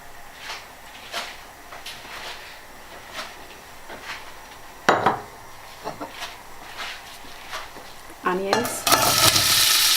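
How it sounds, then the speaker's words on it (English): Oil poured into a dry pan for vegetable bhaji bursts into a loud, bright sizzle near the end, after soft kitchen clatter and stirring noises. "Now I'm going to add oil to a dry pan."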